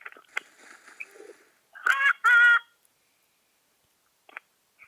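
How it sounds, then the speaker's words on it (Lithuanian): A rooster crows in the Critical Ops shooter game, two short, loud, strained calls in quick succession in the middle, with a few faint clicks and game noises around them. "Mirė gaidys."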